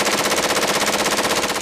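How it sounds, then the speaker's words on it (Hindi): Rapid automatic gunfire from an ambush on a car, a fast continuous burst of evenly spaced shots, loud and close, with no talking. "ताबड़तोड़ गोलियों की आवाज जरूर सुनाई दी"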